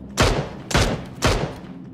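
Three loud gunshot bursts from PUBG, a battle royale video game, evenly spaced about half a second apart, each a sharp broadband crack with a booming low tail and no talk over them.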